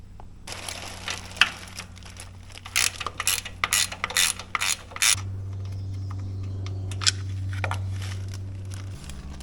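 Ratchet wrench loosening the two oil filter cover bolts on a Gravely zero-turn mower, a run of sharp rapid clicking bursts close by, followed by a steady low hum.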